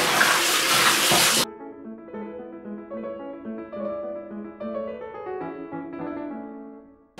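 Water runs loudly from a tap over rice being washed for a second or so, then stops and gentle music plays on alone.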